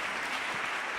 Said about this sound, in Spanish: Un aplauso igual para ellas.